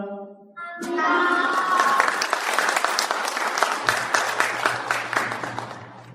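A held musical chord ends, then an audience at an elementary school report meeting bursts into full, sustained applause for fifth-grade students' opening performance, continuing loud and dense with a low hum entering partway through.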